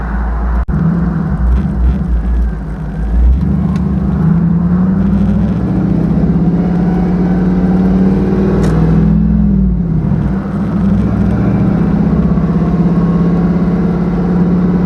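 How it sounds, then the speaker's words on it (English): An LS-swapped GMC Sonoma truck with engine issues rumbles loudly as it drives around town, its deep exhaust note rising and falling with throttle changes and briefly dipping mid-drive. "the more I drive, the better I hear this exhaust, and it sounds way better"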